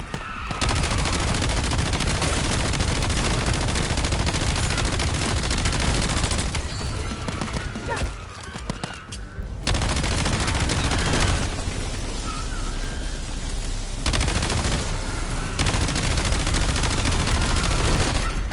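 A mini turret in Black Ops 7 zombies mode fires dense, continuous automatic gunfire, loud and close, with a couple of brief dips in the barrage.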